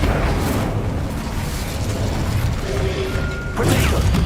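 An Incendio fire spell effect from a Harry Potter–style duelling game, a steady roaring, crackling burst with a brief tonal whoosh near the end and a fresh flare of noise as it closes.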